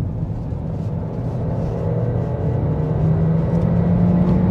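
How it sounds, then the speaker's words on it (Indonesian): Honda CR-V Turbo engine from inside the cabin during a kick-down, a steady droning hum that swells gradually louder as the revs climb, with no talking. "Dan kita coba kick down."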